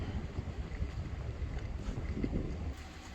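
Wind blowing across a winter campsite in snow, a steady rough rumble and buffeting against the microphone, low and continuous with no voices.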